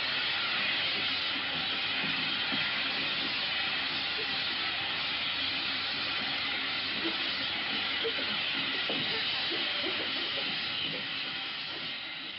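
Continuous steady hiss of steam filling a steam room aboard a submarine, broadband and loud throughout, with faint clanks and rattles underneath and no voices.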